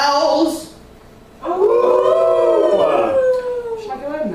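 A long, wavering wolf-like howl rises and falls twice at a live Halloween carnival cabaret show, loud and close, sounding like a voice imitating a wolf.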